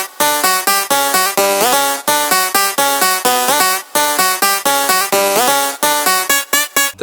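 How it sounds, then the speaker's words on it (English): Phonk melody played on a detuned Ladrao sample pitched up slightly, sounding as a fast, bright, rhythmic run of loud plucked notes looping for several seconds. "then make a melody. Mine sounds like this."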